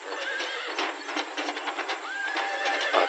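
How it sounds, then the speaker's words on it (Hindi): A horse whinnies softly twice in an animated Hindi story, the light neighs rising over a thin band-limited background with faint hoof-like clatter between them, no talking. "धर्मेश जैसे ही उसके पास जाता है, घोड़ा हल्का हिनहिनाता है।"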